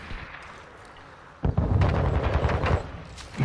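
Gunfire in the Modern Warfare 2 video game starts abruptly partway through: a loud, close burst of rapid automatic shots that continues in dense, overlapping cracks over low background game noise.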